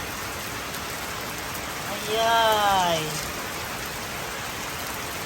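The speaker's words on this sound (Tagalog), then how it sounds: "Bigla-bigla namang umulan." Rain falls steadily as a constant broadband hiss throughout, with a voice briefly exclaiming over it midway.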